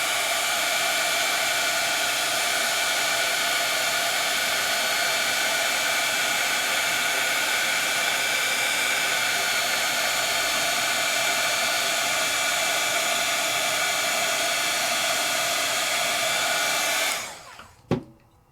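A heat tool blows steadily to melt embossing ink on a papercraft project, a loud, even, broadband whoosh running unbroken for about seventeen seconds before cutting off abruptly, followed by a brief clunk as it is set down.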